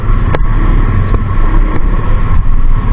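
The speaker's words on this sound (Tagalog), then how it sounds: "Tinding traffic." Heavy road traffic in Manila heard from close by, with loud constant engine rumble, idling vehicles and a few sharp clicks or knocks, no talk.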